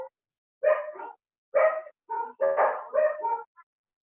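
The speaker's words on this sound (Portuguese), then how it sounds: "cachorro latido?" A dog barks repeatedly nearby, five or six sharp barks in short bursts separated by brief silences, heard clearly over an otherwise quiet background.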